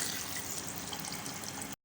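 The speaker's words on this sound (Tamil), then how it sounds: "இப்போ இதில் வந்து நம்ம தண்ணி சேர்க்கலாம்" A steady rush of water pours into a container for almost two seconds, then cuts off abruptly.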